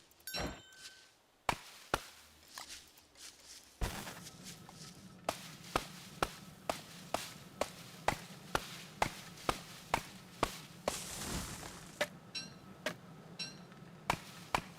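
A character chops a tree in the survival game Don't Starve Together with a steady run of sharp, evenly spaced wooden thwacks. The chops start irregular, then settle into a regular beat over a low ambient hum with no talking.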